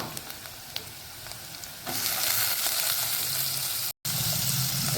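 Soaked chana dal sautés in a pan with turmeric for ridge gourd bhaji, starting as a soft sizzle that swells into a louder, denser hiss as the dal goes in, with a brief dropout near the end.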